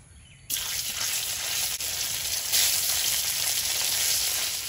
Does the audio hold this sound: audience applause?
no